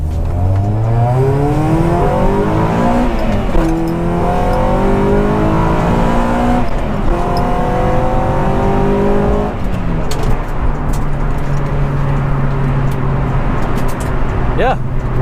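Honda Prelude VTi accelerating hard through first and second gear, engine note climbing steadily in pitch, dropping at each gearchange and rising again, loud and close from inside the cabin, with someone speaking over it.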